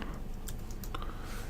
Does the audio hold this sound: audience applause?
no